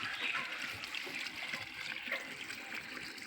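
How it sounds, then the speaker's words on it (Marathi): Water runs steadily from an outdoor tap beside a house in the Konkan countryside after rain, a continuous close splashing and trickling rush that fills the clip without pause. "पाण्याचा नळ आहे इथे."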